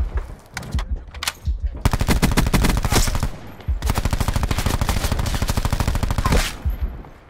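Rapid automatic gunfire in the video game Black Ops: loud, close bursts of machine-gun fire that run almost without pause across the clip, with brief gaps between volleys.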